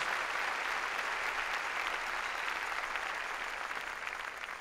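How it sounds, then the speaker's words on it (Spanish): A congregation claps loudly and steadily at a Spanish-language church service, a dense, even wash of many hands with no voices over it, holding strong before easing slightly at the end. "Démosle palmas fuertes, hermano, a nuestro Señor."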